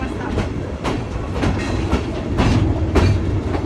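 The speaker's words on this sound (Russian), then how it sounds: "я никогда не ездил на таком поезде" Steam train carriage rolling on the Cévennes line between Anduze and Saint-Jean-du-Gard, France, with a steady rumbling ride and periodic clickety-clack from the rails, close and continuous, with a voice faintly underneath.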